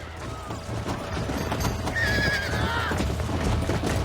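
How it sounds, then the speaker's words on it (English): A horse in Red Dead Redemption lets out a loud whinny over steady galloping hoofbeats and rumbling game ambience. "Hey, the stallion's getting away!"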